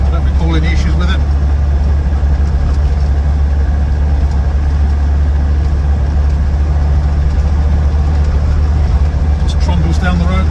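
A Land Rover Defender 90 TD5 county station wagon drives down the road, its diesel engine a loud, steady low rumble with road noise inside the cabin, and someone talks over it.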